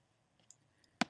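A computer mouse clicks the save button: two sharp, close clicks near the end, preceded by faint small ticks in an otherwise quiet room.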